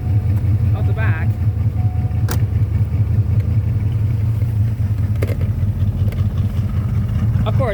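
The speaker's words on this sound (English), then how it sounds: "it's got a pretty good exhaust note out the back." Roller 302 engine swap in a 1986 Ford Mustang idling with a steady low, lumpy exhaust rumble throughout, running a little rough, with brief speech over it.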